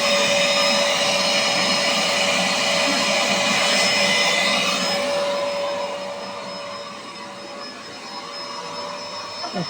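A vacuum cleaner runs steadily and loudly during holiday house cleaning, a constant whine with a faint voice underneath, easing slightly in pitch and volume toward the end as it moves across the room.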